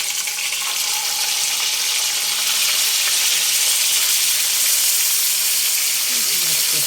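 Eggs fry in hot oil in a pan, one at a time, giving a steady, close, continuous sizzle and hiss with no pauses and no talk.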